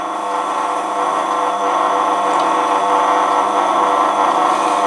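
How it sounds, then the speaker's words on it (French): A wood-turning tool is held freehand against a spinning leather honing wheel, giving a steady, loud motor whir with a faint rubbing hiss. No one speaks. "je la fais à main levée, je la passe sur le disque en cuir"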